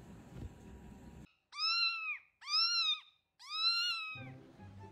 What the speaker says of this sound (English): This cat meows and asks me to do it again.